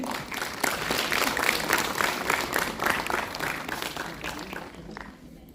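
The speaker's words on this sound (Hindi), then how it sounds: "तालियां बजा दीजिए" Audience applause at a motivational talk on volunteering for a national health assessment campaign: lively, dense clapping from a crowd, steady for several seconds before tapering off at the end.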